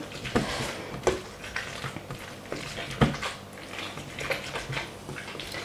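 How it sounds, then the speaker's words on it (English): Ripe blackberries crushed in a dish on a kitchen counter, with close, irregular knocks and clatters of the dish mixed with soft squishing, moderately loud and fairly steady. "start trying to release some of the juice out of these nice ripe blackberries without the dish flying off the counter"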